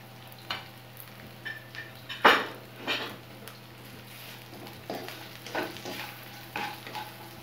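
Dates pickle masala frying in a pan as turmeric and fenugreek powder go in, a soft sizzle under scattered stirring scrapes and light taps, close and fairly quiet with no talking.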